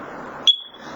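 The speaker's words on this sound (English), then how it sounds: "you hold the test button down until you hear a chirp" A First Alert carbon monoxide detector gives a single short, sharp chirp while its test button is held, heard once over a steady background hiss.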